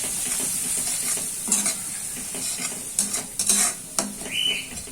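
Spices and tomato masala for a Bengali tangra fish curry sizzle and fry in a pan while a utensil stirs and scrapes. Several louder clanks and scrapes punctuate the steady frying hiss.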